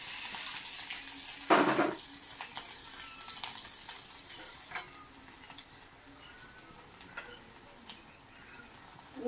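Garlic dropped into hot oil with a pinch of asafoetida sizzles in a pan for red pumpkin dry curry, with a sharp burst of frying early on that settles into a quieter, steady crackle.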